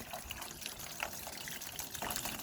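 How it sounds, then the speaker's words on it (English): Rainwater runs down a gutter downspout over a wheelchair ramp, making a steady gushing, splashing rush close by with small drips and spatters throughout and a louder surge near the end. "You can hear the water, can't you?"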